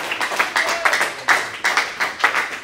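A church congregation claps for Jesus in rhythmic, evenly spaced bursts, roughly two or three claps per second, loud and close with a slight room echo.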